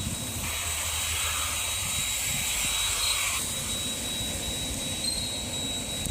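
A steady, broad roar of a passing metro train with a faint high whine, loud and continuous throughout, no voices.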